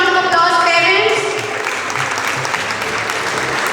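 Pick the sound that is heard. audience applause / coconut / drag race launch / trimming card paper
audience applause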